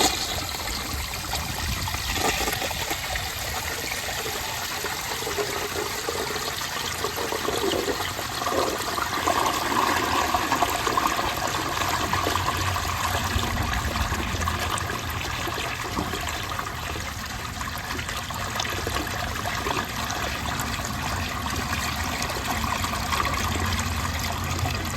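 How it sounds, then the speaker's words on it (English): A 1971 round Kohler Wellworth toilet flushes and refills, a long continuous rush of water settling into a steady trickle and hiss, close and loud throughout. "As I flushed this toilet, the toilet was actually wobbling, which is really interesting."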